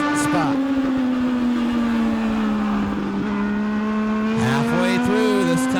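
Legends race cars roar around a Meridian oval in a sustained, steady engine drone. The pitch shifts slightly as the cars hold speed, and a closer car swells and passes near the end.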